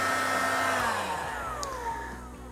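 Heat blower whirs steadily while shrinking tape onto a carbon bike frame chain stay repair, its motor pitch sliding gradually downward, close and loud with no talking.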